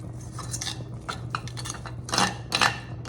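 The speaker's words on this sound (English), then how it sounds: "We are just going to incorporate that into the onions" A metal spoon stirs cumin, salt and red pepper flakes into onions in a pot, with several light clinks and scrapes at close range and no talking.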